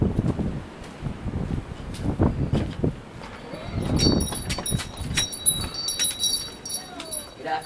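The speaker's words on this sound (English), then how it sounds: "it's cold out here, it's windy" Cold wind blowing outdoors, gusting and buffeting the microphone in low rumbling bursts, with a faint jingle of keys and light rustling mixed in.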